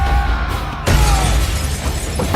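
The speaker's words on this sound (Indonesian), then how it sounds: "komandan menyerang lalu membanting tubuh Knock ke arah kaca" In an action movie fight at an oil refinery, a body is slammed into glass, giving a sudden loud crash and shatter partway through, followed by scattering debris noise under a busy background.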